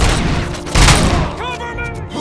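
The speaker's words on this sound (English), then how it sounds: "take him down! Covering fire!" Bursts of covering gunfire in the video game Robocop: Rogue City, with loud, close booming shots and a heavy volley. A voice shouts commands briefly over the fire.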